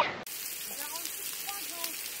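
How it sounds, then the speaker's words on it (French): Light drizzle of very small raindrops falling outdoors on the Galician coast, a faint, steady fine patter and hiss close by, with no talking. "Bon, ben il pleut."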